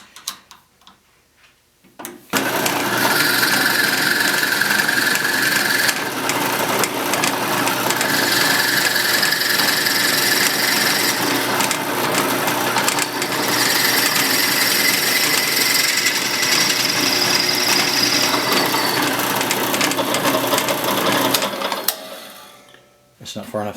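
A drill bores a truss rod channel through a wooden guitar neck, a continuous whirring motor drone holding steady for about twenty seconds before stopping.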